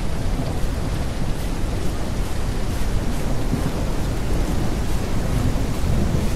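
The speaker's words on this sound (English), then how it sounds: "Oh wow, we got caught out in a storm here." A video game thunderstorm brings a steady, dense roar of heavy rain that stays loud and unbroken throughout, with no voices over it.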